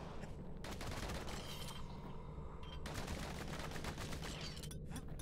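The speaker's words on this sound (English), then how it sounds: "The cannon has the awesome knock." Rapid bursts of cannon fire and explosions in a video game combat scene, dense and continuous, with overlapping impacts and a steady loud background of battle noise throughout, no voices.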